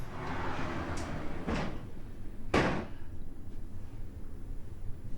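Sliding balcony doors of a Concierge Infinite Veranda cabin aboard the cruise ship Celebrity Apex, opening with a few sharp clunks and rattles over a steady background hum, the loudest thud near the end of the movement.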